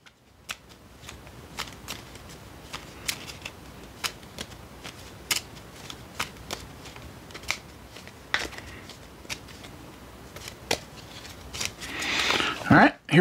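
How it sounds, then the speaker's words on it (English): A deck of Metro X board game cards is reshuffled, with crisp, scattered card snaps and flicks close by, then a dense, louder riffle of shuffling at the end. "So we're going to go ahead and reshuffle."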